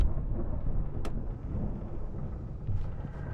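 Thunder from a storm in the video game Alan Wake, a steady low rumble that fills the stretch with a brief sharp crack near the start and no talk over it.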